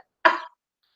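A single short, sharp cough sounds close and alone against silence.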